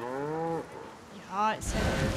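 Two drawn-out cow moos in the video game Assassin's Creed: Mirage, close and clear, the second cut off as a person briefly speaks in German and noise bursts in.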